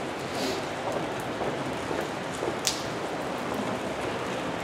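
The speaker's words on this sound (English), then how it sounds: "It's pouring with rain." Steady rain hissing down, a broad continuous wash with occasional drips and patters standing out.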